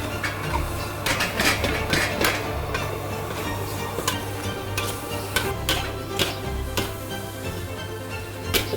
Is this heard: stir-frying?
yes